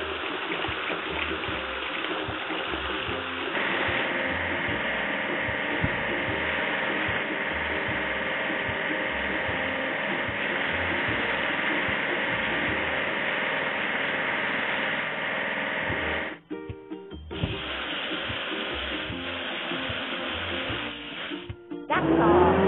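Hydraulic hammer on an excavator in a construction vehicle video game, pounding at a big rock: a steady, loud mechanical rattle and engine drone that runs continuously and cuts out briefly near the end.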